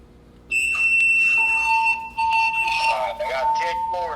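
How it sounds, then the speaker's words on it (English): Building fire alarm sounding during a smoke detector test in a level 10 electrical room, loud electronic tones starting abruptly, briefly stopping, then resuming, with steady pitched beeps ringing close by. "fire alarm testing, smoke detector."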